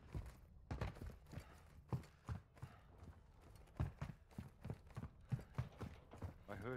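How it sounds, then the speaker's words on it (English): Footsteps in the shooter game DMZ land in a steady walking rhythm of soft, thudding steps, fairly close and alone over quiet background. "I heard his footsteps."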